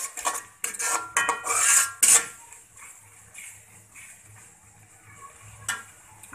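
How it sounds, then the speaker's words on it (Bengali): Spices for a hilsa fish curry are stirred in a metal pan with clattering, scraping strokes, loud bursts at first, then quieter irregular scrapes over a faint sizzle. "এখন আমি ভালোভাবে মশলাগুলো নেড়ে ছেড়ে নিব, ভালোভাবে কষানো কষিয়ে নিতে হবে।"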